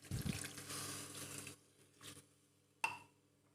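Measured water for chicken biryani pours into a pot in a steady close stream that stops abruptly, followed by a brief splash and a sharp clink near the end.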